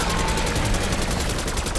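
Dense, continuous automatic gunfire from the Black Ops 6 Zombies video game, loud and rapid throughout the short burst, with no pause or talk.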